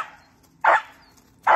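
A Patterdale terrier puppy on a raccoon barks sharply three times, close and loud, with short quiet gaps between the yaps.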